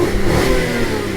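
A Lancia car engine revs up close and loud, a smooth, rich mechanical roar that stays steady across the whole brief moment, with no voices over it.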